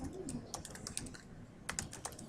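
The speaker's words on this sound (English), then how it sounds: "I'm just going to type in" Quick bursts of typing on a computer keyboard while entering a name for a free Weebly subdomain site, close and fairly quiet, with irregular clusters of keystrokes and short pauses.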